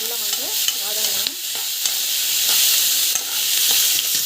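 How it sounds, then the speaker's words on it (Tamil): Tomatoes sautéing in a pan for a greens chutney, a continuous sizzle with repeated scraping stirs of a spoon, punctuated by soft clicks and taps, with no talking. "டமாட்டோ ஆட் பண்ணிக்கலாம். ஸோ நல்லா வந்து வதங்கணும்."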